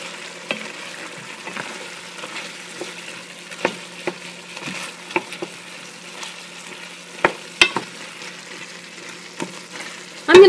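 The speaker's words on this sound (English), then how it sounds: "I've been stirring this pot now for about 2 or 3 minutes" Steady sizzling of vegetables frying in a pot, with occasional scraping knocks of a spoon stirring, close and moderate, no talking.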